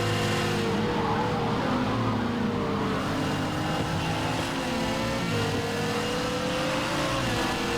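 A Nissan GT-R race car engine roars steadily at high revs, loud and close, with a constant droning tone and slight pitch shifts throughout, no talking.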